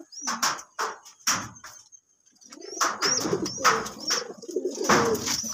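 Several pigeons cooing in a loft of a Trichy breed, repeated soft coos and calls close by, with a brief quiet gap midway and steady overlapping cooing after.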